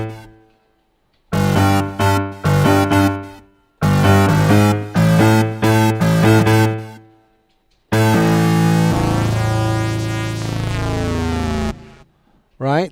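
A Korg digital piano layered with an iPad synth sound plays bursts of chords and phrases, then a long sustained passage with a bright shimmering synth tone over the piano. It sounds close and clear, with no talking.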